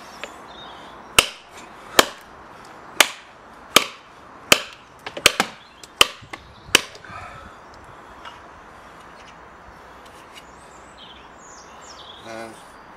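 A copper tube blade chops into wood with about nine sharp, loud strikes in an uneven rhythm, followed by quieter rustling and faint birdsong in the background.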